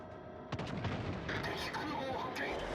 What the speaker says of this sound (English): we're able to land several shots there and trigger the fire